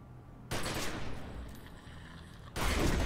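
Rifle gunfire in The Secret World: a loud, dense burst of shots holds for about two seconds, then a fresh, louder blast erupts near the end over steady game ambience.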